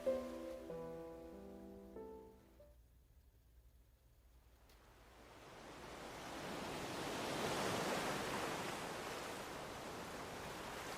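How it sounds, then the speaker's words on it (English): After a few soft sustained tones fade, ocean waves rise into a broad, hushing surge that swells and slowly recedes, steady and moderately loud with no voices. "listening to the sounds that very mindfully come from the waves and embrace you"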